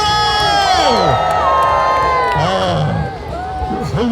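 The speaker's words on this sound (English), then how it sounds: "let's have a big cheer for Riff Raff and Louise!" A crowd at a ferret racing event cheers and whoops loudly, children's shouts and excited voices layered together, swelling then easing off slightly near the end.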